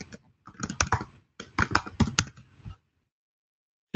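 Rapid keystrokes on a computer keyboard, typed in two quick bursts of clicks followed by silence, with one sharp tap at the very end.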